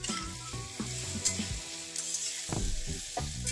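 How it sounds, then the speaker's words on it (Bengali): Pieces of ash gourd fry in a pan with black mustard seeds, giving a dense, close sizzle broken by clattering stirs and scraping. "ঝপাং করে কাটা চাল কুমড়োর টুকরোগুলো কড়ায় ঢেলে দিন।"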